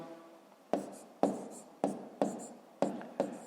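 A pen or pencil writes numbers on paper while working a long division of 171.5 by 49, with six crisp, close scratchy strokes in a steady rhythm and no talking.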